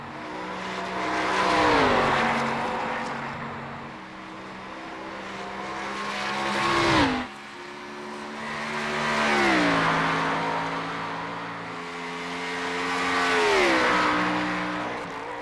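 A race car laps the Watkins Glen circuit during qualifying, its engine repeatedly revving up through the gears and dropping on downshifts, rising and fading in loud waves as it passes, with no talk over it.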